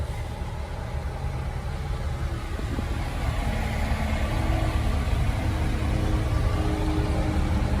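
Road traffic rumbles around a car in a steady low engine drone with passing vehicle noise, continuous and fairly loud, with no talking.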